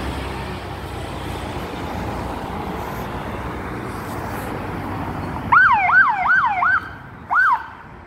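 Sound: ambulance siren

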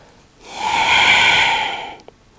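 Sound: inhaling and exhaling during morning exercise

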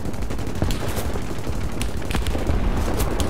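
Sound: rear gunner firing machine gun on British dive bomber, War Thunder video game

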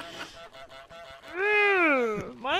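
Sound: goose honking in Untitled Goose Game, video game

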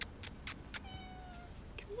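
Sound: cat meowing

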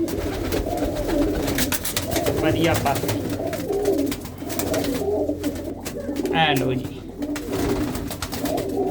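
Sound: pigeons cooing

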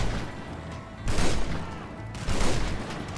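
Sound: gunfire in video game GTA 5

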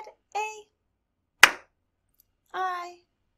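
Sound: children clapping

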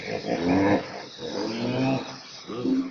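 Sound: hippopotamus

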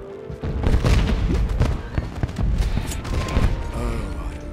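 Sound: fireworks in the Shrek Forever After Wii video game

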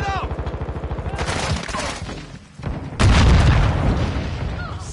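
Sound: grenade explosion and gunfire in Warzone 2 video game

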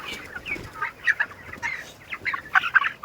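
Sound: chickens clucking

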